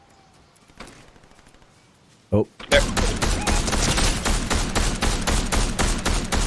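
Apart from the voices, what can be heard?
gunfire in a video game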